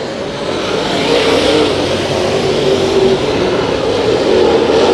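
Race cars battle for the lead through a turn during a Santa Maria heat race, their engines forming a loud, continuous roaring drone that stays steady and close throughout.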